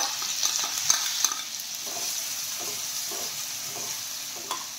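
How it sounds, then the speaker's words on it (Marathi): Green chili and garlic thecha frying in hot oil with cumin seeds, a steady close sizzle broken by a few light clicks of a spoon stirring the pan, with no talking. "ठेचा छान तळून आपण घेऊया।"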